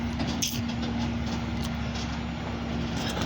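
A garbage truck idles and rumbles on a street, a steady loud engine drone with a low hum and brief hissy bursts, heard nearby without talk.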